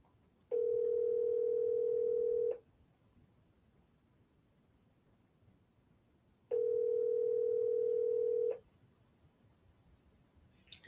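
A telephone call rings out unanswered, with two long, steady ringback tones of about two seconds each separated by a few seconds of quiet, clear and alone on the line.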